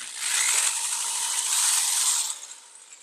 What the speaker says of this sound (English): We're just going to drill out the primer pocket.